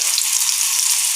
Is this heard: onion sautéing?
yes